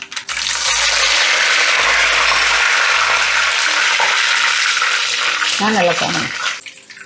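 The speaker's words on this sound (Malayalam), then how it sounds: "അപ്പോൾ എണ്ണ ചൂടായിട്ടുണ്ട് നമ്മുടെ കടുക് പൊട്ടിക്കൽ പരിപാടി ആദ്യം ഇത് കടുകിട്ട് കൊടുക്കണ്ടേ" Mustard seeds, chillies and curry leaves sputter and crackle in hot oil as a steady, loud sizzle that runs nearly the whole time, with a low background hum underneath and a few brief stirring clatters near the end.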